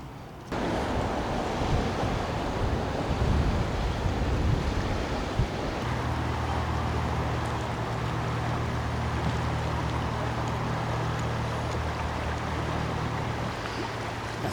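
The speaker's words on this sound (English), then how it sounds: "I'm going to walk over and try and get some video of the current" The tidal current at Tillicum Reversing Falls in Gorge Inlet makes a continuous rushing, surf-like roar of moving water, with gusts of wind on the microphone and a low droning hum that joins in midway.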